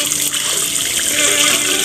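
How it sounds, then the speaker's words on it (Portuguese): A strong jet of tap water pours over a Umidigi Bison GT rugged phone, a loud, steady rushing splash that runs without a break, with no talking. "Botar um jato de água aqui, né? A torneira aqui é bem forte."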